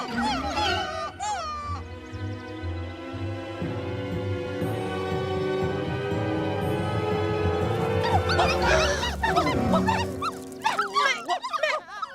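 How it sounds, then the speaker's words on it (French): Dogs at a dog park in a children's cartoon give yips, barks and rising whimpers, several short bursts near the start and end, over a music bed with some voices. "Les chiens sont là"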